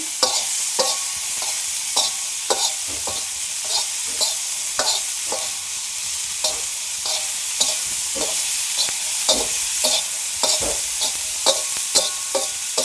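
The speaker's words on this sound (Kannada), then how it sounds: "ಒಂದು ಚಲೋ ತನಕ ಹುರ್ಕೋಬೇಕು ಎಷ್ಟು ಚಲೋ ಹುರ್ಕೋತೀವಲ್ಲ ಅಷ್ಟು ಚಲೋ ಬರ್ತವೆ ಪಲ್ಯ ಅಷ್ಟು ರುಚಿ ಬರ್ತೈತಿ" Filling for North Karnataka karchikayi palya stir-fried in a pan up close, with a steady sizzle under rhythmic scraping strokes of the spoon repeating every second or so, and no one talking.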